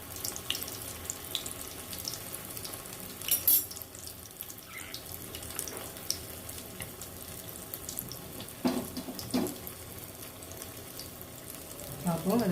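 Potato cheese balls without coating fry in hot oil with a steady hissing, bubbling sizzle throughout, fairly faint, with occasional louder bursts of spattering.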